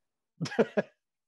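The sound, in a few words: woman coughing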